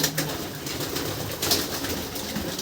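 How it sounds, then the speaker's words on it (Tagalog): Fighting pigeons coo in low, throaty murmurs close by, with soft wing flutters and rustling in a continuous busy bird chatter. "ang ating mga ibon"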